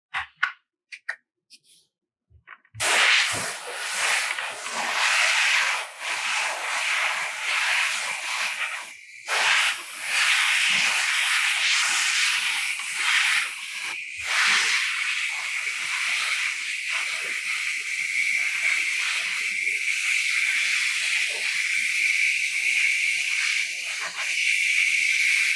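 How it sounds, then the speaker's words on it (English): An airbrush being cleaned out sprays air and paint in a steady, loud, continuous hiss after a short quiet start, with a couple of brief breaks in the flow. "I'm going to clean this airbrush out."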